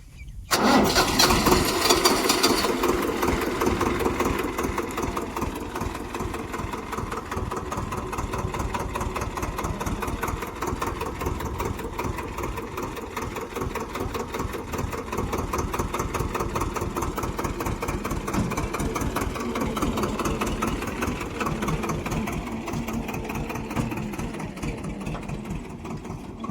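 A farm tractor engine cranks and catches with a loud burst, then settles into a steady, rapid diesel idle that thrums on close by for over twenty seconds without any voices.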